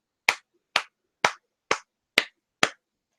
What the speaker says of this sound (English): You get a golf clap.